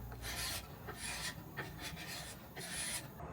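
A 1-inch hand scraper drags over a wooden swing's stripped wood in repeated rasping strokes, close and fairly loud, each pass a dry rough scrape.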